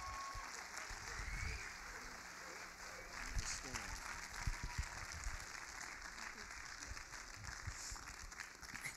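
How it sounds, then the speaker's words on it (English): Audience applause at an afternoon Hanukkah 2020 gathering, steady clapping from a crowd continuing for several seconds with a voice speaking over it. "Now you got to keep clapping until she gets up here."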